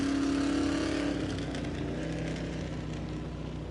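Vintage A-Class race cars roar around a clay dirt oval, a loud continuous engine drone that slowly fades as the field passes.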